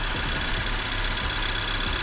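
A tiny car engine, likened to a lawnmower, idles steadily with a constant low rumble and faint high whine, no voices present.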